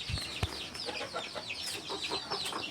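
Fayoumi chickens are kept in an enclosure on a rainy day, clucking in short, overlapping calls close by, with a couple of soft thumps near the start.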